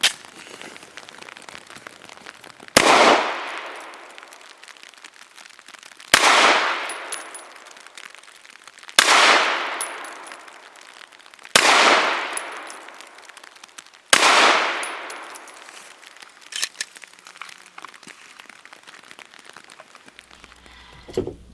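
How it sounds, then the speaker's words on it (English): Five loud, sharply decaying shots from a Remington RP9 9mm pistol firing Nosler 115 grain match ammunition at 7 yards on a range, spaced about three seconds apart, each ringing off before the next. "5 shots from 7 yards using Nosler 115 grain match."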